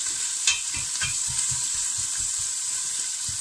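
Onions fry in a pan over medium-high heat, a steady close sizzle with rhythmic scraping strokes as they are stirred, no talking.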